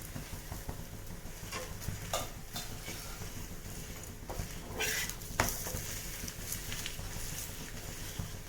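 A thepla flatbread frying in oil on a pan, with a steady low sizzle under scattered clinks and scrapes of a utensil turning it, close and fairly quiet, with no talk.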